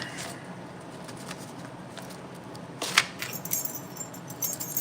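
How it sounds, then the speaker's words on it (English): Keys to a Mustang car jangle in a garage, a brief bright metallic rattle near the middle over a steady low background hiss, with a few lighter clinks following. "The keys to the Mustang."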